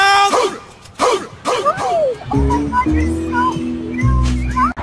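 Dogs bark and yip in quick, fairly close bursts, with a voice and other sounds mixed in.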